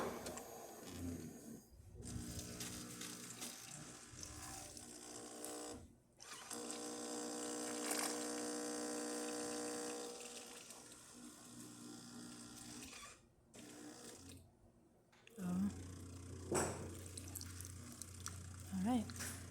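A serviced Jura Ena 8 coffee machine grinds and brews medium roast beans, with faint whirring and buzzing passes broken by short silent gaps, then gurgling pump noise toward the end.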